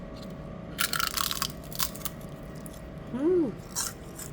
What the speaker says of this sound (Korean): 바삭바삭한 이 소리 들리세요?